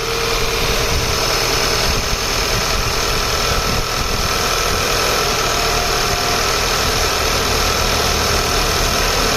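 An Audi A4 B8 engine idles steadily and close by, a continuous low rumble with a faint rattling vibration, no voices.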